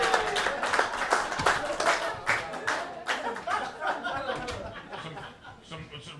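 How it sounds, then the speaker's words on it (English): Scattered clapping with chuckles and light chatter from a small audience for a comedian at a dive bar, filling the stretch at fairly steady loudness. "I'm getting an applause break from the guy from Elizabeth."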